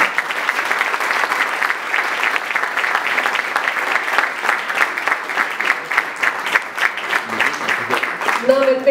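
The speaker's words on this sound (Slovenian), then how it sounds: "prosim, še en aplavz za vse." An audience at a regional business competition award ceremony claps steadily for the winners, dense and sustained applause filling the room for several seconds before a voice begins to emerge at the end.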